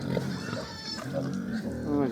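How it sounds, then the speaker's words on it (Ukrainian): Large sow on a mini pig farm grunting among her eleven piglets, with short, close grunts and squeals repeating through the clip while a person talks over them. "Свиня. 11 поросяток"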